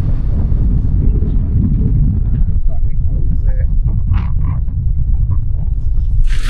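Cold wind buffeting a microphone on a motorbike ride on a freezing winter day, a steady loud low roar that runs throughout, with faint engine rumble and brief voices in the background.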